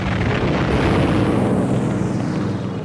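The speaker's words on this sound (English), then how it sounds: "he squirted at it with his cannon, but he was a bit too close and it flew to bits" Cannon fire from a de Havilland Mosquito blows a terror weapon to bits in a loud, continuous roaring blast. The dense rumble holds steady for the whole stretch with no pauses.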